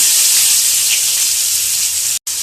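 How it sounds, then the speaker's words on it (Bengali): Chopped onions hit hot oil already seasoned with bay leaf, dried red chillies and panch phoron, producing a loud, steady, hissing sizzle that cuts off abruptly near the end. "এবার পেঁয়াজ কুচিগুলো দিয়ে দেব।"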